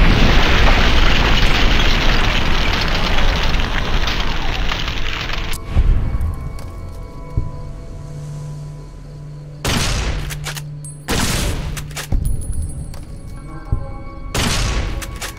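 Gunfire from the Fallout: New Vegas video game as centaurs are shot: a long, loud, dense burst of shots and blasts, then a quieter stretch broken by several separate heavy booms.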